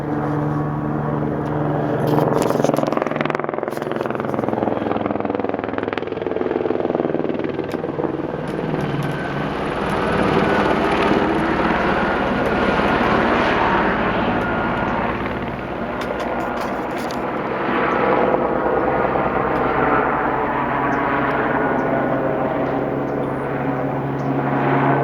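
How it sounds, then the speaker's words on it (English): A police helicopter hovers low over a residential neighborhood, its steady rotor thump and engine drone filling the whole stretch at a constant, loud level with slight swells, and no talking. "It's a police helicopter hanging out over my neighborhood."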